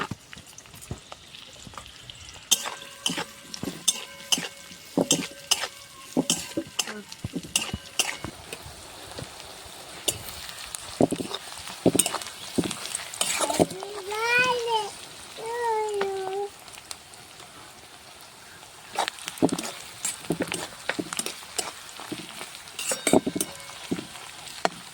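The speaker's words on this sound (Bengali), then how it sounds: "পেঁয়াজটাকে বেশ লাল লাল করে ভাজতে হবে।" Chopped onions fry in a pan with a continuous crackling sizzle broken by frequent stirring clatter, with a cat meowing briefly in the middle and a voice speaking at times.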